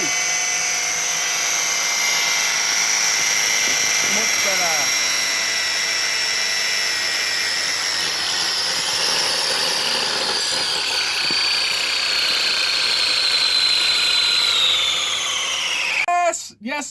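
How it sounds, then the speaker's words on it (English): An RC car fitted with soft compound tyres does a burnout, its electric motor giving a continuous high-pitched whine that holds steady for many seconds before cutting off abruptly at the end. "We got a bit of a burnout going on."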